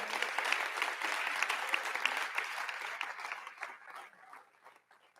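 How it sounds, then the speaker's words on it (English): Crowd at a college fall convocation gives itself a round of applause: dense, steady clapping that holds for a few seconds, then gradually thins and fades out toward the end. "Give yourselves a round of applause"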